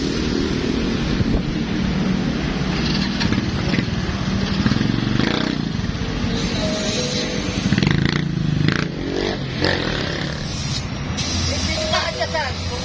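A motorcycle engine idles and revs in a repair shop after a brake shoe check, a steady rumbling drone with rising revs, while voices talk over it and wind brushes the microphone.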